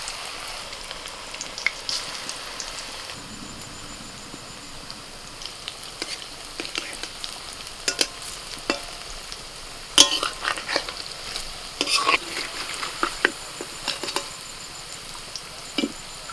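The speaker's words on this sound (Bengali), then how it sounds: "এবার বাঁধাকপির পকোড়া ছেড়ে দিচ্ছি" Small cabbage pakoras fry in hot oil with a steady low sizzle, broken by irregular sharp crackles and pops of spattering batter, heard up close with no talking.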